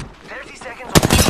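A rapid burst of gunfire in Apex Legends erupts after a short stretch of game noise and voices, close and loud, with sharp repeated shots.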